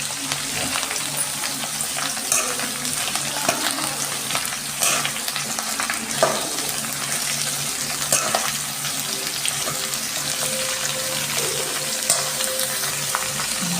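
Onions with salt sizzle steadily in a hot pan for the whole stretch, with periodic scraping and stirring strokes of a spoon breaking through the continuous frying hiss.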